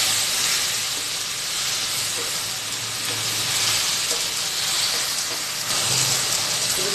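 Chutney ingredients sauté in a hot pan, sizzling loudly and steadily with a constant hiss from start to finish; no speech.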